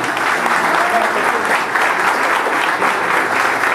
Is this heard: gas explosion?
no